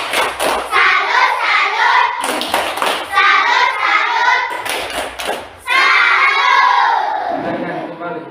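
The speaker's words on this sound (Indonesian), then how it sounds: "Beri tepuk salut buat kelompok 1." Classroom clapping for a student group, loud rhythmic bursts of patterned hand claps in several distinct rounds with children's voices and shouting mixed in.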